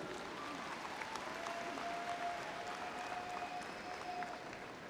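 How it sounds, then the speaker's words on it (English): A high school graduation audience for the class of 2017 applauds in a steady, dense wash of clapping that holds evenly for about five seconds, with faint whistles, heard at a modest distance. "Give yourselves a round of applause."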